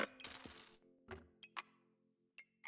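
Coins clink in a video game as a pig is sold: a bright jingling burst at the start, then several sharp separate metallic chinks spaced out over quiet.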